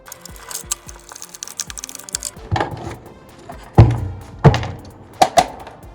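Nuts being unscrewed from the underside of a faulty UPS with a 12V 9Ah battery: quick ratcheting ticks at first, then several heavy thunks and clanks of metal parts knocked and set down close by.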